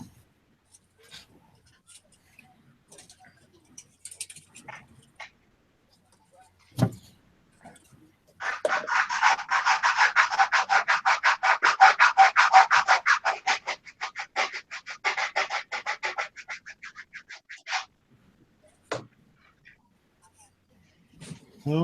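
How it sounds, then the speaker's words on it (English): Sandpaper rubbed rapidly back and forth over a surface, a dense run of raspy strokes lasting about nine seconds and close by, framed by scattered small knocks and handling noises before and after. "Oh, the sweet sound of sandpaper."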